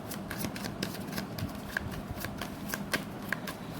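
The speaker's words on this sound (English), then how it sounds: "I'm getting a very good vibe from while shuffling your cards" Tarot cards being shuffled by hand, a steady run of soft riffling flicks and papery slaps with a few sharper snaps, close and quiet with no talking.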